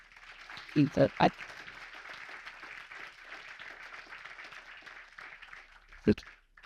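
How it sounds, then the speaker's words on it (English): Applause at a justice initiative presentation, a soft distant wash of clapping from a crowd, broken by a few loud close bumps near the start and end, with speech mixed in. "big round of applause"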